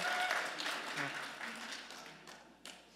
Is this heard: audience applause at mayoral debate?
yes